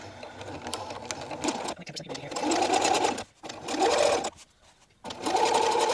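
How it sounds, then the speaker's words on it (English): A sewing machine top stitches a linen tank top in close, rapid bursts of mechanical whirring broken by short pauses, with someone talking over it. "I will go ahead and top stitch. I'll try to keep tension so it makes a really clean line."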